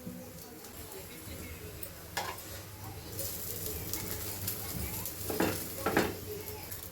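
A cauliflower paratha roasts in oil on a griddle, a soft steady sizzle with occasional scraping or pressing sounds, bird calls faintly in the background and a voice speaking at times.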